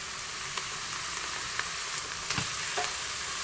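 Angus beef ribs brown in a hot pan with a loud, even sizzle and crackle, close up, marked by a few brief pops and stirring scrapes.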